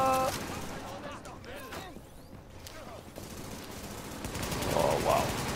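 Gunfire bursts in the video game Tom Clancy's The Division, sharp shots and volleys spread through the clip over ongoing in-game noise, growing louder toward the end with a voice chirping briefly.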